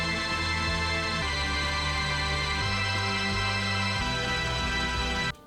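An uplifting drum and bass chord progression played on a Serum synth pad, sustained dense chords shifting every second or so over steady bass notes, loud and continuous before cutting off at the end.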